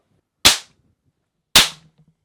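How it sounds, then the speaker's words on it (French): Two sharp, loud snaps from string firecrackers about a second apart, each cracking and fading quickly in an otherwise quiet space. "Ça fait le bruit des pétards ficelles."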